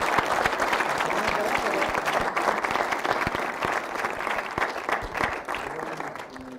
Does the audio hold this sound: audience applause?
yes